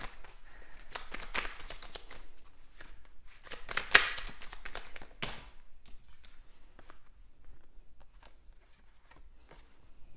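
Tarot cards being shuffled and drawn give a close, crisp run of riffling and flicking for about five seconds, with a tap or two, then fading to faint handling sounds.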